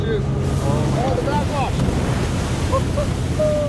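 Waves and backwash churned up by passing ships, a broad continuous wash of water with wind buffeting the microphone, while faint chirping or squealing sounds rise briefly above the surf.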